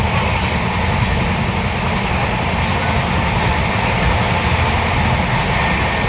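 A running passenger train, late by hours, rumbles on with a steady, loud, continuous roar of wheels and carriage noise, unbroken and without speech.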